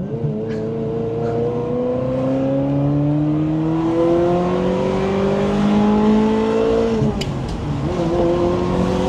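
Ferrari F355 GTS sports car driving, its engine note loud and close, rising steadily in pitch as it accelerates, briefly dipping near the end before climbing again, with no talk over it.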